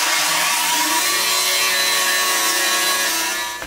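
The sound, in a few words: power sander cleaning up aluminium boat part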